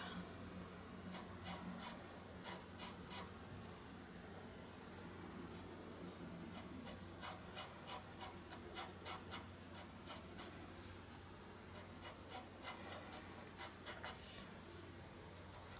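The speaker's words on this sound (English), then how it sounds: "So I'm very lightly sketching in those shapes." A pastel pencil lightly sketches on paper, soft scratchy strokes in short bursts over a faint steady background hum, close but quiet with no talking.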